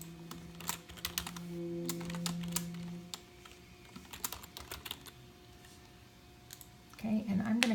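Someone types a contact's name into a computer contacts form, the keyboard clacking in quick irregular bursts through most of the stretch, near and moderately loud, with a brief voice near the end.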